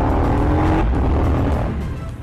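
KTM Superduke 1290R motorcycle engine pulling hard on a race track, a loud, rough roar that holds strong and then eases slightly near the end, with no one talking.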